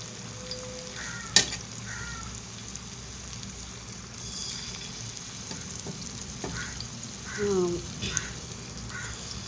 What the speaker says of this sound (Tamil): அதனால் நான் தோசைக்கல்லில் தான் வறுப்பேன்